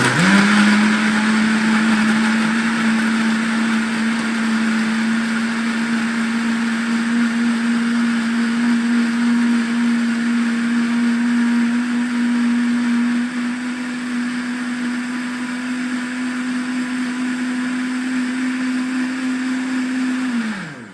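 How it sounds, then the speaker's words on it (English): A liquidizer whirs steadily for about twenty seconds, blending an olive oil citrus sauce for mackerel into a fine paste, a loud, even motor hum with a faint rise in pitch as the load thins before it cuts off. "I'm going to blend it to a good fine paste"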